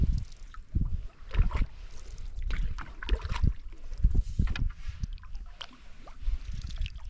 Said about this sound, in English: It's just a very pleasant paddle.